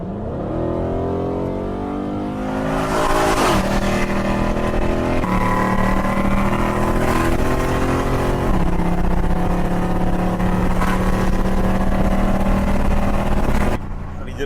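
A car accelerates hard in S plus mode through traffic, its engine tone climbing through successive gears with steady loud drive noise, while a voice talks over it intermittently.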